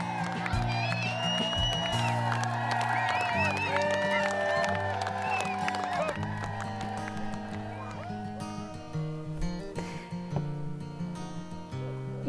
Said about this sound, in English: There's excitement because the crowd is going mad.